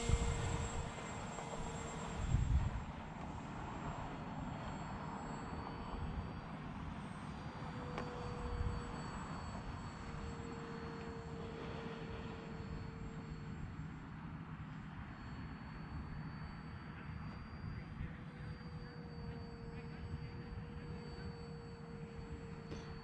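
An RC F-35 model jet plane flies at a distance, giving a steady, fairly faint whine with a sustained tonal hum that holds throughout, with a few bumps of wind or handling noise early on.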